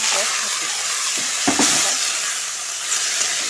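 Cabbage and green chili hit hot oil seasoned with cumin and bay leaf, giving a steady, close sizzle with a couple of sharp stirring knocks in the middle.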